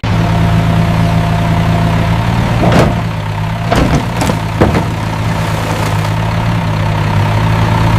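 Mini excavator engine running steadily at a low, droning idle while hauling a load on a farm, close and loud, with a few brief clanks and knocks rising above the constant hum.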